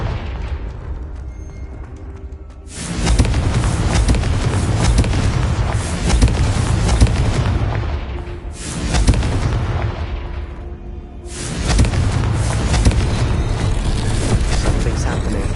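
Repeated fiery blasts of the Confringo spell in Hogwarts Legacy on PS5: three long, loud roaring bursts that swell in and sustain for several seconds each, with speech lingering between and over them.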